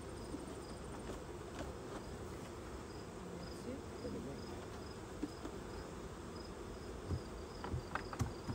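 Honey bees buzz around a hive while being fed, a continuous low drone holding steady throughout with faint scattered ticks, no voices.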